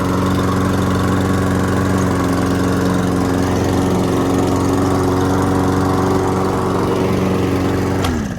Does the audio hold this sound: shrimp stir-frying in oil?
no